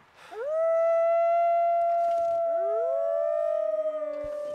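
Several wolves howl together in The Long Dark, a video game, in long, rising and sustained tones, overlapping one another, loud and close with no talking.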